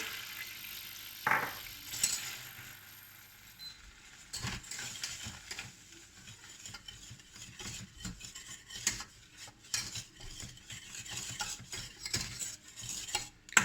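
Butter and flour being stirred in a pan for a traditional béchamel, giving faint, irregular scraping and tapping with quiet background noise throughout; no talk.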